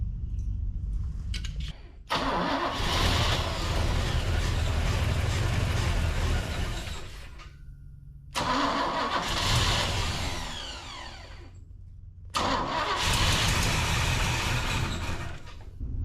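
A Big Block Chevy V8 meant for a 1972 C10 truck cranks and catches three times, each run a loud rough roar that sags toward a shaky idle before cutting out into near silence.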